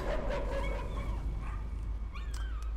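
A big dog in the game Layers of Fear gives a few short yelps and whines at mid-distance, spread across a steady low droning background, with no voices.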